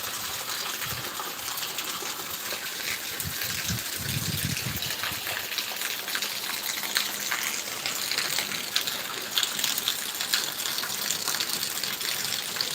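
Rainwater rushes and gushes continuously along a road, streaming past, with a few low rumbles early on and no talking.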